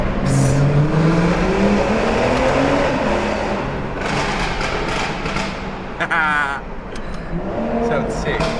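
Stage 2 tuned BMW B58 engine with downpipe, revving inside a tunnel, loud echoing exhaust drone rising and falling with a few sharp pops and crackles, people talking over it.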